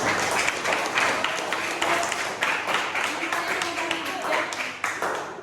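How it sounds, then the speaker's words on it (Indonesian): A classroom of students clapping together for a classmate who succeeded, a dense, steady patter of many hands lasting several seconds, fairly close, with voices mixed in underneath. "Dan tepuk tangan dulu buat teman kalian yang berhasil."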